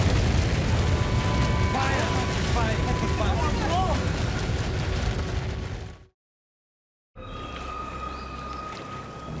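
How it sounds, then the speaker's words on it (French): Deep, rumbling roar of a volcanic hyper-eruption explosion, loud and sustained with low booming texture, cutting to silence briefly before a quieter droning continuation. "l'hyperéruption entraîne une série d'événements dévastateurs"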